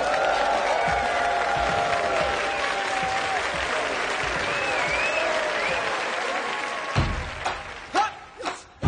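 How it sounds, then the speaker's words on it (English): Sustained applause from a large crowd fills the clip, steady and dense, with a few louder claps and bumps near the end as it tapers. "I hope that you will join in with me in a nice big round of applause"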